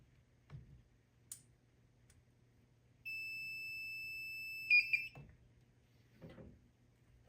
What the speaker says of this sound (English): Fire alarm in-house. Fire alarm in-house.